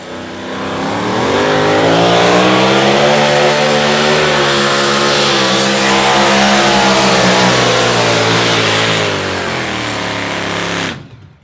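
A two-wheel-drive outlaw pulling truck with an injured motor revs hard and loud at a Saturday night pull in Rock Valley, its engine howling steadily for about ten seconds before cutting off abruptly.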